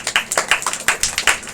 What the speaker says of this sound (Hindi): मैडम के लिए तालियां बजाओ।